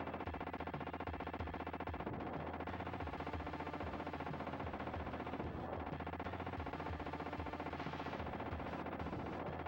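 Rapid, continuous gunfire from the SNES version of T2: The Arcade Game rattles without a break over a steady wash of in-game sound, with no voices.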